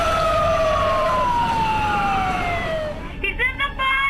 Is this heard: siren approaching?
yes